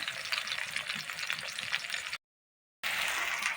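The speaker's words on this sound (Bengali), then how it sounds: "মাছ ভাজা হচ্ছে" Fish fries in hot oil in a karai, a steady close crackling sizzle that runs on, breaks off briefly into silence, then resumes just as loud, with no voices.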